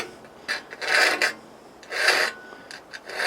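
Gentle file strokes across the teeth of an old handsaw: a few separate raspy pulls, close and moderately loud, with short pauses between them.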